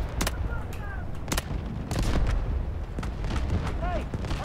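Artillery fire in the shooter game Delta Force: a string of heavy booms and sharp blasts of varying distance punctuating a constant rumbling battle din, with a voice speaking underneath.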